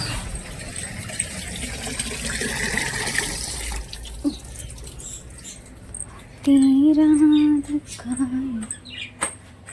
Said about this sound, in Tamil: அச்சோ, என்னாச்சு? தண்ணி நிரம்பிடுச்சுப்பா.